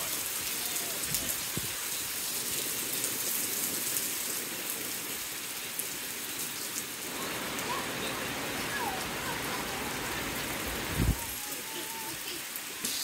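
Steady rain pours outdoors over a Filipino-American family, a dense even hiss that runs throughout, with voices talking over it.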